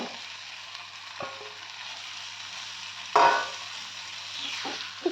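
Prawns dropped into a pan of cooked-down spiced masala for chingri jhal, a steady low sizzle that flares into a louder hiss as they hit the hot oil, then settles back into frying.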